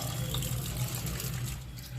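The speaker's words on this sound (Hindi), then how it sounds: "दाल को अच्छे से पानी डालकर धो लेते हैं।" Chana dal is washed in running water, a steady close rush of water filling and splashing continuously with no talking.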